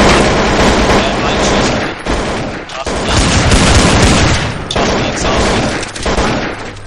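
Dense, loud gunfire from an online competitive shooter game rattles in rapid bursts and fusillades with booming impacts, pausing briefly between volleys.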